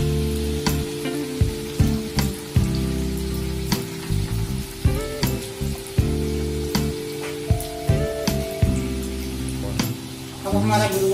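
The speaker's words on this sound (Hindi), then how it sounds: "आप देख सकते हो गुलगुले बहुत अच्छी तरह से फूल रहे हैं और अच्छे ब्राउन हो रहे हैं।" Sweet gulgule fritters made from wheat flour and semolina fry in hot oil with a loud, steady sizzle and frequent crackling spatters, over a sustained tonal hum.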